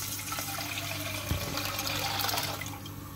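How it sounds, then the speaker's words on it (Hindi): Milk pours steadily into a pan for heating while making sheer khurma, a continuous liquid rush lasting a few seconds over a low, humming kitchen background. "अब हम इसी में दूध डाल देंगे गर्म करने के लिए।"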